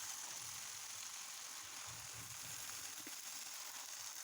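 Greens (saag) go into a hot pan after the magur fish is lifted out, giving a faint, steady hissing sizzle with no break.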